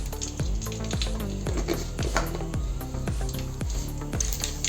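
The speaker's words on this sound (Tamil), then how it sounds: "கடுகு நல்லா வெடிச்சிருக்கு" Mustard seeds and fenugreek splutter in hot oil for a fish kulambu, with rapid close pops and crackles over a busy frying hiss that runs throughout, with no talk.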